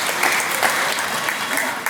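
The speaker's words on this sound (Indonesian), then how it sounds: "Kita beri tepuk tangan KUR OMK." Congregation applause for the KUR OMK choir after an evening Catholic Mass, a short, steady, loud burst of clapping that fills the whole moment.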